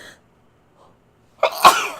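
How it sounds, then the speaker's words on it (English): One loud sneeze bursts out near the end after near silence, with a faint sharp intake just before it. "Had to sneeze."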